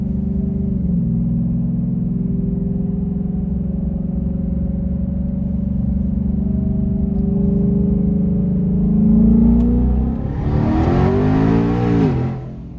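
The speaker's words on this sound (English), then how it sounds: "we're gonna try a burnout" A Hellion twin-turbo Mustang holds a loud, steady engine drone at close range during a cold-weather burnout attempt, then revs up sharply near the end before cutting off.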